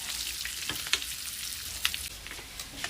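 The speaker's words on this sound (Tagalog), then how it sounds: "piniprito na po siya ng sarili niyang mantika" Meat frying in its own rendered fat, a close steady sizzle with sharp crackles and pops scattered through.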